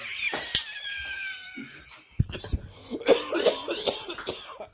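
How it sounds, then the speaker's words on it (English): A sharp cough caused by powdered creamer bursts out near the start, followed by rustling and scattered clattery noises. "cough right there is from the powdered creamer"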